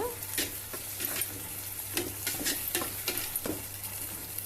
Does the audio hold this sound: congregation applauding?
no